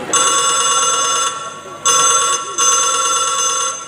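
A telephone rings after a number has been dialed, a loud, steady electronic ring repeating in long bursts separated by short gaps.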